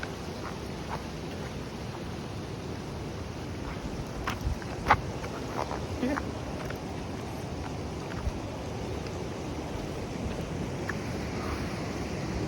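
Overflow water from the Neersagar dam rushing and tumbling over big rocks, a steady broadband roar that holds for the whole stretch with a few brief knocks, heard alone with no talk.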